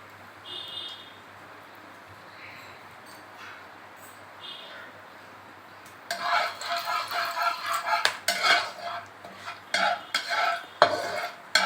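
Bay leaves and garam masala frying in hot oil in a wok, a bright crackling sizzle that bursts in loudly after a quiet start and continues with stirring scrapes and small clatters.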